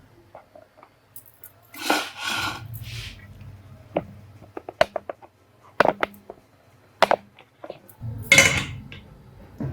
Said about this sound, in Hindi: चलिए अब मैं इसको डिश आउट करूँगी